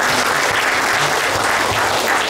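Congress attendees at a patriotic gathering in Braniewo, Poland, clap together in a continuous, loud wash of applause. The sound stays even from start to end, with no speech.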